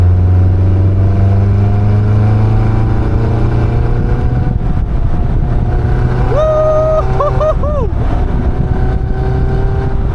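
A Caterham 340S sports car engine drones steadily from inside the cabin, loud and continuous, then rises in a quick sharp rev with rapid blips toward the end.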